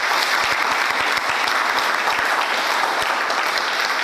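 Audience applause for a project director at a hospital donation ceremony in Bafoussam, Cameroon, a steady dense clapping that carries on loud and unbroken for about four seconds with no voices over it.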